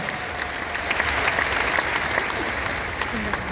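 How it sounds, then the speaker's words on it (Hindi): An audience at a business seminar in India breaks into enthusiastic applause, a dense, steady round of clapping lasting several seconds with no talk over it. "एक बार आप सबके लिए जोरदार तालियां हो जाएंगी"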